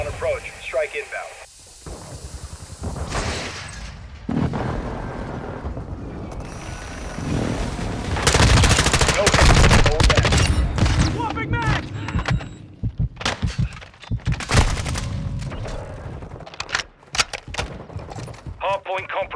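Rapid bursts of gunfire and heavy explosive impacts from a close air support strike in Call of Duty: Modern Warfare II Hardpoint, loud and dense, with radio-style voice callouts over the barrage.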